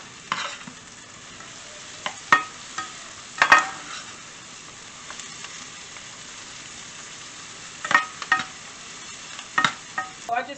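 Philly cheesesteak meat frying in a pan while being stirred, with a steady low sizzle underneath and scattered scraping clinks from a utensil against the pan, occurring in short clusters.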